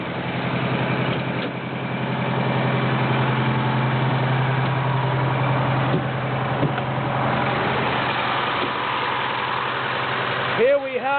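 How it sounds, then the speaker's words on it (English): Detroit Diesel 8V71 two-stroke engine idling in an American LaFrance fire truck, a steady, close, throbbing rumble that holds evenly throughout with faint voices under it. "Here we have a Detroit diesel 8V71 two-stroke engine."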